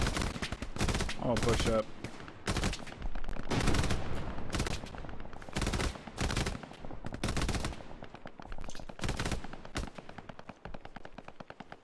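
Gunfire in the video game Band of Brothers, heavy bursts of automatic fire and single loud shots in rapid clusters, close and dominant, with someone talking briefly over it.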